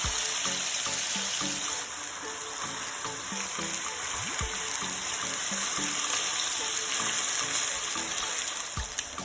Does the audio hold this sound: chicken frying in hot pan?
yes